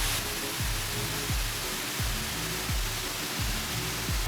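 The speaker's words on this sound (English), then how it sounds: "The third waterfall." A waterfall in Ricketts Glen roars as steady, broadband rushing water that fills the whole clip without a break. Periodic low thumps run underneath it.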